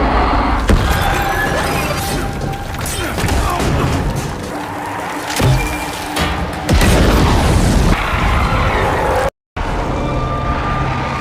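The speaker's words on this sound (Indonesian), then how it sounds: "terpaksa melepaskan tembakan peledak untuk menyelesaikannya" Heavy booming blasts and crashing impacts hit loudly over a dense, chaotic din, with a brief dropout near the end.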